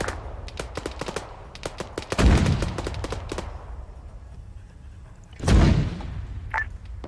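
A mortar fires in Arma 3, heard as two heavy, booming launches a few seconds apart standing out over a scatter of sharp, distant gunshots and crackling small-arms fire.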